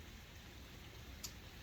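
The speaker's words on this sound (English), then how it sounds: "We're getting a little spring rain." Light spring rain falls outdoors, a soft, steady hiss with a single faint patter near the end, quiet and continuous with no talk.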